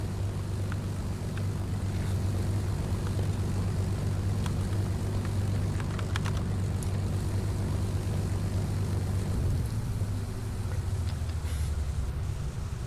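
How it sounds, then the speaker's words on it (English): A Waco YMF-5 propeller biplane flies in the Second Life game, giving a continuous steady drone with a low hum throughout and a few faint clicks over the top. "I was flying the Waco YMF-5."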